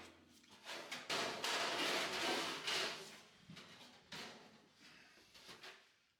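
A sheet metal brake folds 24 gauge metal to a 90 degree bend, giving a few heavy creaking thumps and a long grinding rumble, close and moderately loud, with no talk.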